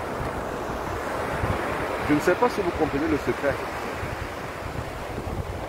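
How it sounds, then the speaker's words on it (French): Sea waves rolling onto a shore, a steady rushing wash with wind noise throughout, heard under someone speaking in the middle of the clip. "Regardez ces vagues qui arrivent jusqu'à moi."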